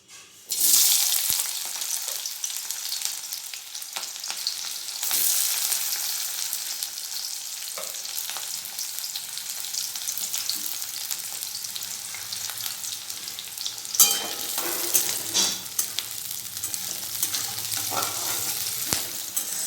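Loud sizzling of onions frying in hot oil, a bright crackling hiss with occasional stirring clatter, no talking.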